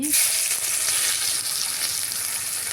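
Chopped onions hiss and crackle loudly in hot oil while chicken curry gets started, a dense, steady sizzle that runs unbroken from start to finish with no voices.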